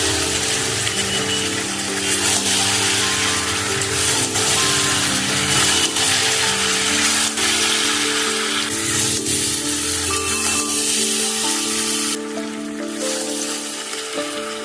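Fried chicken pakoras being stirred into thick chilli chicken sauce in a pan, giving a steady sizzle with scraping and rubbing of the spatula against the pan throughout, loud and close.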